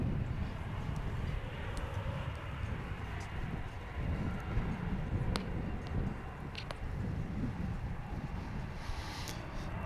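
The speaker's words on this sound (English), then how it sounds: "We've got another flight coming in on runway 13 right from Los Angeles, an American flight." A steady, broad roar of jet engines from an American Airlines flight out of Los Angeles landing on runway 13 right at Dallas/Fort Worth Airport, heard outdoors at Founders Plaza with wind, sustained and fairly distant throughout.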